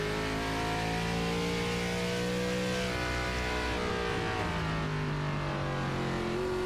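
Near, steady engine note of an ARCA race car in a sim racing game at Sonoma, held at low revs with harmonics rising and dipping through short shifts, continuous with no talk.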